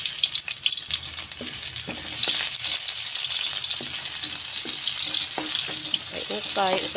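Red onion sautéing in hot oil, a loud, dense sizzle that swells as the onion goes in, with utensil scrapes and stirring knocks throughout.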